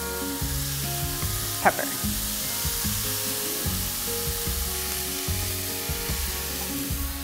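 Minced lamb seasoned with cinnamon, salt and pepper sizzles and fries steadily in a pan, a dense continuous crackle with a brief stirring clatter; a voice says a single word.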